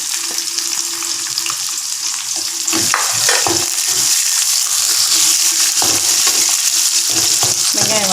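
Onions sautéing in oil for a moringa leaf stir-fry, with a steady loud sizzle and occasional stirring scrapes and knocks of the spoon against the pan, close up and without speech.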